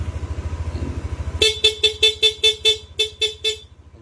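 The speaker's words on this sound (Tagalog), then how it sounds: "Saka sa busina ni Sir, ginamit po natin PIA horn po." PIA horn fitted to a Yamaha NMAX V3 scooter sounds in a quick series of about ten sharp, loud toots over a low idling engine hum, close by.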